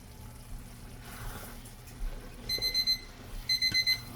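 A kitchen timer alarm goes off after five minutes, quiet background first, then two bursts of rapid high electronic beeps near the end.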